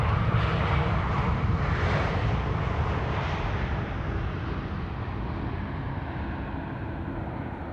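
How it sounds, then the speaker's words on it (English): A Dash 8 turboprop at Amsterdam Schiphol airport makes a broad, loud engine drone that slowly fades over several seconds, with no voices. "Am I hearing the props of the Dash 8?"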